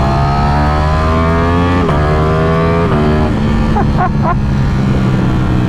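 A Lamborghini Streetfighter motorcycle fitted with a titanium exhaust roars loudly and close, its engine note climbing in steady revving sweeps and dropping with sharp shifts, followed by a few crackling pops near the end.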